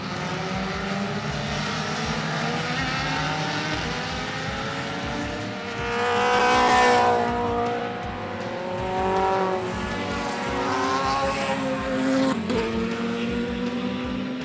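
Radicals, Swifts and BPMSI group race cars run a handicap race on a wet, tricky course at the Barbados Festival of Speed. A buzzing engine drone swells as a car passes closer midway, then recedes and rises again.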